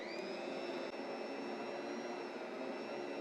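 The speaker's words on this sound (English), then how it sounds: "get my mixer going" An electric kitchen mixer runs steadily with a constant whirring motor drone and a thin high whine, even and unbroken, fairly quiet and with no talking.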